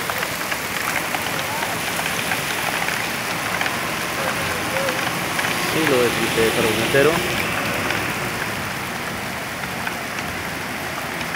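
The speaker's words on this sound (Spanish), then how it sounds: "fuerte aguacero hoy en la ciudad de Cali" Heavy rain downpour over Siloé in Cali, Colombia, a dense continuous hiss of drops on surfaces, loud and near, with someone speaking briefly over it midway.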